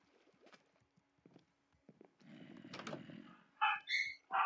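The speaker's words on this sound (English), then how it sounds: "My dogs Jimbo are barking." Dogs barking inside a house, a few distinct barks near the end following a stretch of scattered knocks and a low rumbling noise.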